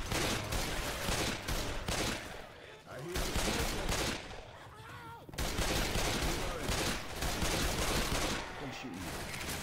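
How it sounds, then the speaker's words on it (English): A machine gun rattles in Left 4 Dead 2, loud dense bursts of rapid automatic fire broken by brief pauses, with combat noise throughout and a voice talking along. "I'm not using my machine gun yet. Now I am."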